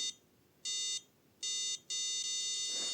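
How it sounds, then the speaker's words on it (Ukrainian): Makeblock robot emitting electronic beeps: three long, loud, bright tones with short gaps between them, close by in a quiet room, followed by a soft rustle. "цей звук робить робот, то не я"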